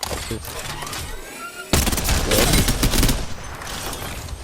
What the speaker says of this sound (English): It's 170 continuous shots.